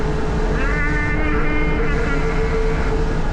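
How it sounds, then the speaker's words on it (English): An RV engine strains hard at 55 mph, a loud, steady droning roar with a rising whine, heard from inside the cab throughout. "We're up to 55 miles an hour. The engine's screaming."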